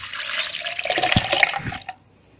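Boiled water pours into mango pulp for aam panna, a close splashing, gurgling stream lasting about two seconds before it stops abruptly.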